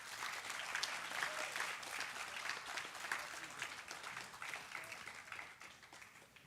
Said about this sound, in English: another huge round of applause for all the teams